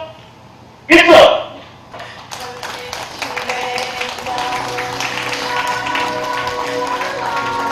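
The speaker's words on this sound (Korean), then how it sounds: "뜨겁고 또 따뜻한 박수로 신랑이 멋지게 입장할 수 있도록 여러분 함께 맞이해 주십시오." Wedding guests clapping as the groom enters the hall, a sudden loud impact followed by a building, steady round of applause mixed with music, under an emcee's voice.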